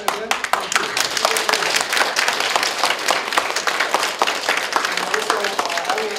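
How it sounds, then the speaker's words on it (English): Audience in a conference room applauding the speakers, dense steady clapping from many hands, fairly close, with faint voices under it. "could we give all the speakers a round of applause again?"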